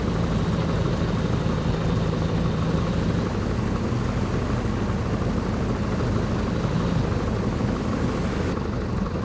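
In the Flight Simulator X video game, a Piper J3 Cub taxiing on the ground puts out a steady, continuous propeller-engine drone that stays level and fairly loud throughout, with no talk.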